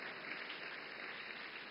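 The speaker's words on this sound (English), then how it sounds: "Yeah, you can clap." Audience applause fills a hall during a YouTube CEO's onstage session, a steady, even wash of clapping from many hands sustained throughout, fairly quiet and without talk.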